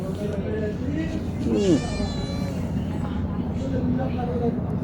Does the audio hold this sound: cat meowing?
yes